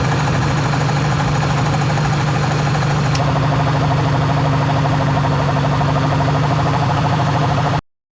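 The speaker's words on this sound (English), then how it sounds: "it's still a nasty noise either way, so that's why I'm thinking the pulley bearing" Failing A/C compressor pulley bearing on a 2005 Ford F-150 grinding and knocking over the running engine, a close, steady, harsh mechanical drone with a rhythmic clatter that cuts off abruptly at the end.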